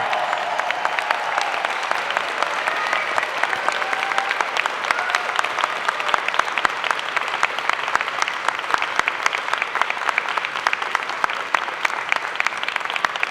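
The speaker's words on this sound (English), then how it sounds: "join me in applauding the amazing graduating class of Spring 2019" A large convocation audience of friends, family and platform guests applauds the graduating class, with steady, loud, continuous clapping throughout.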